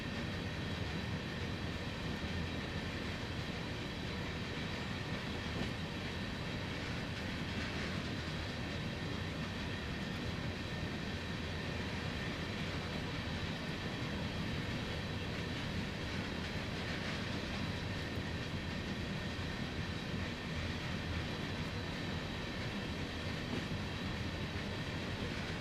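Class 08 shunter locomotive running at full throttle on an uphill climb in a train simulator, a steady dense engine and rail rumble that holds evenly and loud throughout with no talking.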